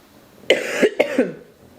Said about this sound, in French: Est-ce qu'un jour je vais arrêter de tousser ou pas?